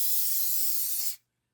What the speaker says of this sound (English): And as you can see, I'm not really spraying a lot.